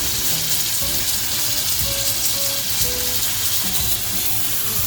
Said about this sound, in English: Then you're going to want to sear the fat cap.